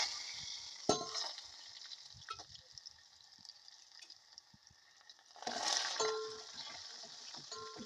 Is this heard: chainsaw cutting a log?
no